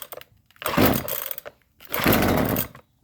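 A Husqvarna 128LD string trimmer is pull-started twice in a row, each pull a rough, rasping recoil burst about a second long with short silent gaps between them.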